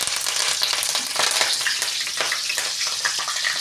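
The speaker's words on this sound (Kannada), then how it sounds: "ಆಯಿಲ್ ಕಾದಿದೆ. ಈಗ ಬೆಳ್ಳುಳ್ಳಿ ಹಾಕ್ತೀನಿ." Garlic fries in hot oil with a loud, close, crackling sizzle that pops and spits continuously throughout, with no talking.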